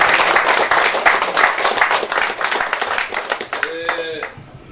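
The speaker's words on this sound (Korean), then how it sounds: "힘찬 박수로 부탁드립니다." Energetic clapping from an audience at a monthly meeting of a North Jeolla education council as local council candidates are introduced, dense and close, fading out near the end as a voice comes in.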